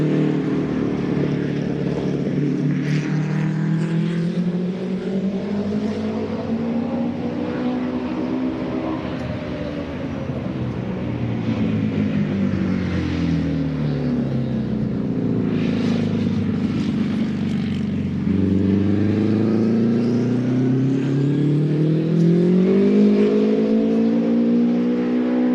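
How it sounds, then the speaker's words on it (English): Offenhauser engine in a vintage Samsonite race car running at a speed festival, a loud close engine note rising and falling through repeated revs and pitch swings over a long stretch, with no voices. "Let's listen in on one of those Offie engines here in this Samsonite machine."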